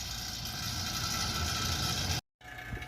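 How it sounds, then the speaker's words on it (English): A vacuum pump evacuating a car's air conditioning system runs with a steady, close mechanical drone and rattle, then cuts out briefly and restarts. "I've let this vacuum run for a couple minutes now, and it's pretty close to 30 inches of mercury"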